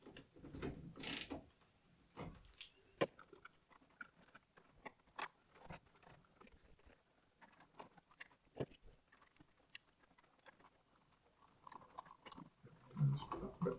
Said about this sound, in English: So just screw this back in and then I'll tidy up the cable.